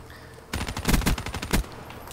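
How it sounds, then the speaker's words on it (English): Dingo light machine gun fired in Black Ops 3, a sharp burst of rapid automatic gunfire lasting about a second, loud and close, with a final shot just after and quiet before and after. "Dingo is probably one of my favorite LMGs in the game."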